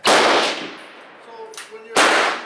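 Two loud Swiss K-31 rifle shots fired outdoors during load development with 4895 powder, each a sharp crack with a decaying echo, about two seconds apart, with faint voices between.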